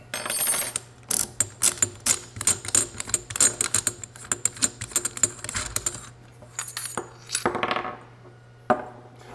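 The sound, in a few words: wrench turning nut on Typhoon F12 shotgun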